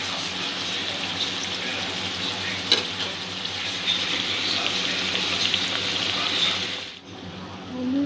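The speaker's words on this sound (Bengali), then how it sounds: "ভুজিয়াগুলো এপিট ওপিট করে এইভাবে গোল্ডেন ব্রাউন করে ভেজে নিতে হবে।" Semolina gujiya deep frying in hot oil, a steady loud sizzle throughout with a brief clatter near the middle and a dip toward the end.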